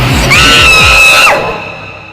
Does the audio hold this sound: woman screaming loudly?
yes